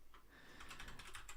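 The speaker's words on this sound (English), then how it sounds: "let me just type it out." Quick keystrokes on a computer keyboard rattle out in a close, uneven burst of clicks that speeds up toward the end, soft and alone without any voice.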